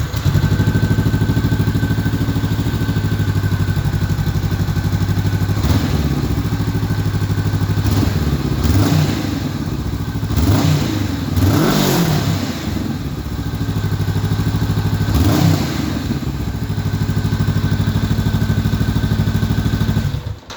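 A 2019 Honda CB500X with a Rally Raid stage 2 setup and stock exhaust, baffle in, runs steadily up close with a deep, even rumble, lifted by several short throttle blips along the way.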